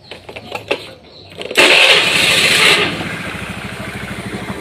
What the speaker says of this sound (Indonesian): sekarang kita nyalakan motornya